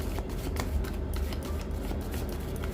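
Angel oracle cards shuffled quickly and continuously at close range, a dense riffling flutter that lasts throughout with no pauses.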